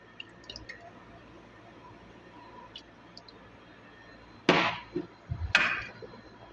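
Excess water is poured off rice being cooked for Saudi kabsa, heard as two short splashy gushes near the end after faint dripping and quiet kitchen background.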